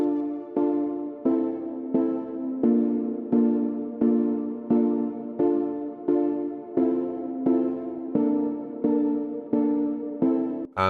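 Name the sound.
synth chords of sawtooth waves with LFO-modulated cutoff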